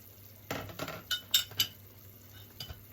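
Chicken meatballs with carrots and onion stirred into patola (sponge gourd) in a pan, giving a handful of clinking utensil scrapes and taps against the pan, close and moderately quiet, with short pauses between strokes.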